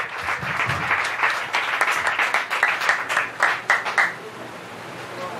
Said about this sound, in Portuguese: e as palmas bem fortes, glorifica a Deus